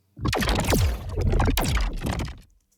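Designed sci-fi portal sound effect after mastering, brighter in tone: two bold sweeping whooshes with swirling tonal glides and crisp airy top end, fading out cleanly.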